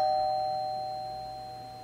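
A doorbell at someone's home rings once with a clear, sustained electronic chime that slowly fades, with no other sound around it.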